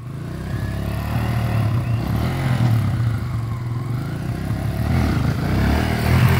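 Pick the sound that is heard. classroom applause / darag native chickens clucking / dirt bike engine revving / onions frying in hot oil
dirt bike engine revving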